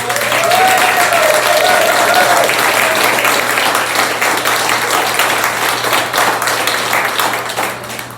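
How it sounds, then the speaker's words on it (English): Sustained applause from a crowd at a legislative update event, loud and dense, with clapping continuing steadily and tapering slightly at the end. "please give them a round of applause."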